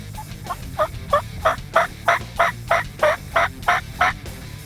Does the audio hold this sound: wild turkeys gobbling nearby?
yes